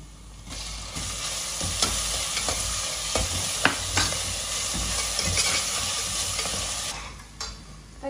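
Tomatoes frying with onion, ginger and garlic in a pan for a mutton head curry, a continuous close sizzle with intermittent stirring scrapes and light clanks, no speech.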